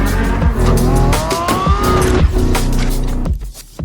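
A Lamborghini Revuelto at speed: a loud, close engine note rising and sweeping in pitch with tire squeal and skidding noise, then the roar falling off near the end.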